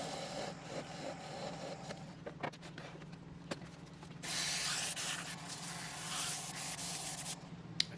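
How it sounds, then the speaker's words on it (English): A Bunya Bunya wood pepper grinder is sanded on a running lathe: a steady motor hum with light rubbing at first, then a louder continuous sanding hiss through the second half, with no speech. "Finish sanding it"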